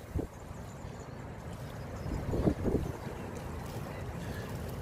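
Steady wind rushes and buffets the microphone outdoors while bream fishing, with faint thumps and creaks from a boat mixed in.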